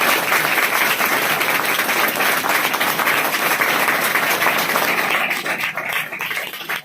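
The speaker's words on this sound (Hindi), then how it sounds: "जो तालियां बज रही है" Sustained audience applause in a hall celebrating a successful student, dense and loud clapping from many hands that holds steady and then thins slightly toward the end, with no talk over it.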